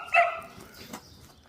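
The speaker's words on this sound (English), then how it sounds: "Bandit needs a bark collar." A dog on a farm gives a single loud, close bark that trails off into quieter rustling and faint background noise.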